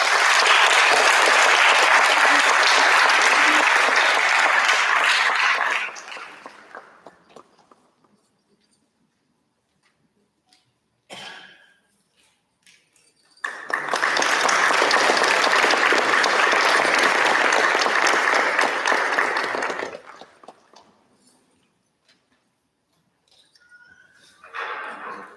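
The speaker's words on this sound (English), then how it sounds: "Please join me for an applause to my guru" Two bursts of audience applause at a Bharatanatyam dance academy's inauguration concert, each loud and dense for several seconds before tapering off into quiet, with a brief smattering of claps in between and at the end.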